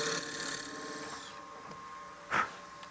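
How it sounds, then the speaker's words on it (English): A drill bit bores into a spinning wooden wine-glass blank on a lathe at about 1,000 RPM. It gives a humming, raspy whine that fades after a second, then a short scraping burst follows. "Let that bit find center, and then once it's in the wood, you can go ahead and drill that out."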